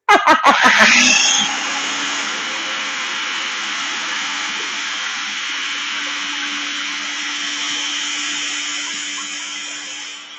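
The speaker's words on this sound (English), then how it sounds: "So I do my preliminary mix with the food processor." Food processor whirring as it mixes avocado, starting with a few loud choppy pulses before settling into a steady high-pitched motor whine that runs continuously for several seconds, then fades slightly at the end.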